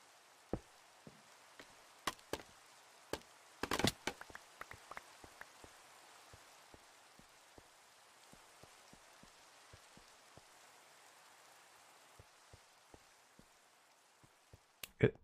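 Rain pattering in a video game setting near a stone river bridge, steady faint hiss with scattered sharp drops and ticks across the whole stretch.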